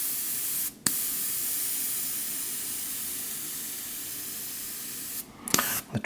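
A Mobius 0.2 airbrush with a very stiff trigger sprays in one steady, close hiss for about five seconds. Brief gaps and a click or two break it near the start and end.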